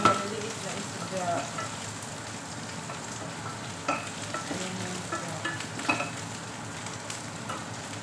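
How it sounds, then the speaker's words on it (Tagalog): Small fish frying in a pan give a close, continuous hissing sizzle, with scattered louder crackles and occasional stirring clatters throughout. "I-fry muna natin itong mga maliliit na isda."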